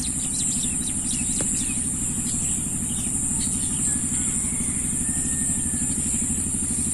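A straw-laden launch motors past on a village river, its engine a steady low chugging throb that persists throughout, with birds chirping faintly in the background.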